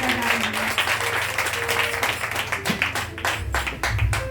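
A worship congregation breaks into applause to acclaim Jesus, steady clapping mixed with cheering voices and a low hum of crowd noise throughout.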